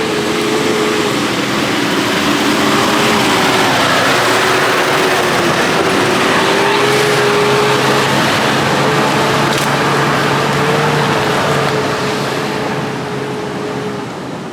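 A 4.2 litre 1HD turbo diesel vehicle engine drones steadily and loudly while driving, a constant low rumble with a faint steady whine above it, fading slightly at the very end.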